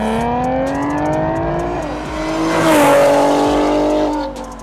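Supercharged Audi S4 with all-wheel drive launching on dry pavement, its engine revving hard in loud rising harmonic sweeps, a brief shift dip, then a climbing surge before easing off, close and continuous with no talk.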